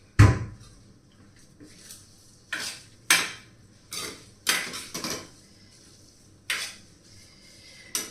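Dishes and cutlery clatter in a home kitchen as breakfast is served, several separate sharp clinks and clunks spread out over a few seconds, close by, with no talking.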